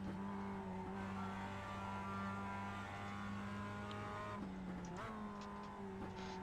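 A Mazda race car in the iRacing video game laps Mid-Ohio, its engine a steady sustained drone with strong harmonic tones that shift pitch briefly near the end as it changes gear, alone without talk.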